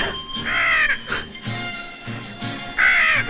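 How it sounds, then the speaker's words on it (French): A crow caws loudly nearby, a few harsh drawn-out calls spaced about two seconds apart over a rumbling background. "Maudit sois-tu, oiseau de malheur!"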